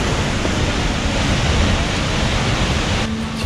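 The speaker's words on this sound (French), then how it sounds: "on vous emmène sous la cascade." An Icelandic waterfall roars from close range beneath the falls, a loud, steady, broadband rush of falling water that persists without pause.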